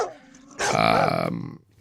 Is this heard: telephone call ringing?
no